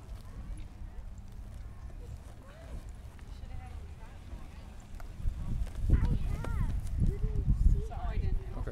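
Horse hooves clip-clop during a horseback ride at a farm in Amery, an uneven rhythmic plodding that grows louder after the midpoint, with people talking over it.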